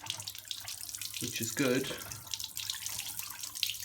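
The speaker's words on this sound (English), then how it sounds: "I'm just going to let it run straight out" Water gushes out of the filter of a Miele W1 Performance 1600 washing machine in a steady, close pour while someone speaks briefly over it.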